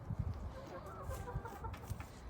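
Chickens clucking on a farm, let out to roam on snow-free grass; several nearby birds make irregular low clucks and murmurs with an occasional sharper call, no talking.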